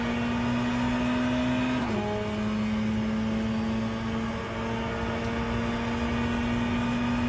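Race car engine in a Monza racing video game, a loud steady high drone at full throttle with a brief pitch drop near two seconds like a gear shift, then holding steady again.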